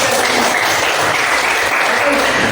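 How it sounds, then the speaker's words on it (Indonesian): Classroom applause from a group of students, loud, dense and continuous clapping that fills the room throughout, with a few voices mingled in. "Tepuk tangan dulu"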